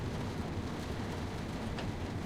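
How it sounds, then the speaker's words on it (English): Steady rain falls in the Train Sim World 2 London commuter train simulator, a dense, even hiss throughout with a low rumble underneath. "We have some nice little rain today."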